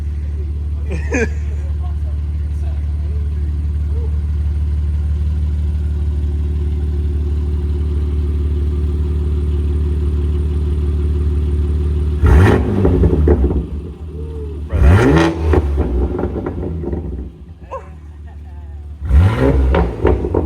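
The S58 in a BMW M2 G87 with a titanium Valvetronic exhaust burbles at a deep, steady idle for a long stretch, then barks out three loud, close revs in quick succession.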